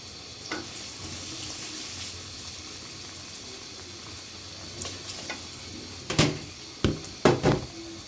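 Green chilli and ginger hit hot oil in a pan while cooking a potato and flat bean chorchori, giving a steady hissing sizzle with a few sharp clinks and stirring knocks toward the end.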